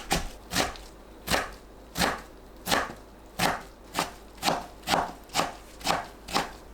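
A knife slices through aged kimchi on a cutting board in about eleven evenly spaced, crisp chops, close and moderately quiet.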